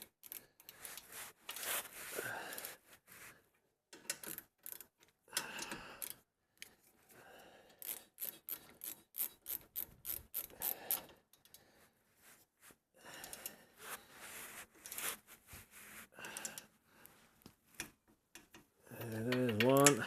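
A ratchet snugs down the nuts and bolts joining the ball joint to the control arm on a 2002–2008 Toyota Camry front suspension. Quick, faint clicking runs come in repeated bursts, with some low talk between them.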